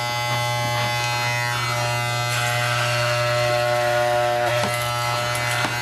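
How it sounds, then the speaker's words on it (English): Cheap electric hair clippers cutting hair, a steady close buzz with a low hum and a bright harmonic whine, shifting slightly as the blades move through hair. "What a shitty set of hair cutters."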